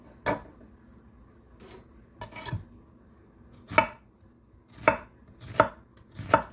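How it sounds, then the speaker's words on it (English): A knife chops onions on a board in a home kitchen with a handful of sharp, close, irregularly spaced chops separated by short pauses. "going to cut up these onions"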